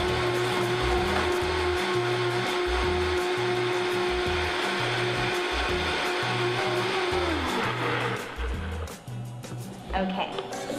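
A loud, constant motor hum runs through most of the clip as zucchini is spiralized into noodles, then cuts off near the end, leaving softer handling noises.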